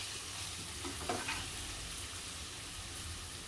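Green masala paste being sautéed in hot oil for a Koli-style mutton curry, a soft, continuous sizzle with a faint stir partway through, quiet and steady with no talking.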